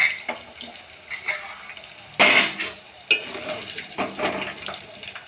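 Coconut pieces boiling in a pot on a stove, a steady bubbling and simmering wash with sharper splashy bursts and stirring clatters recurring every second or so, fairly close.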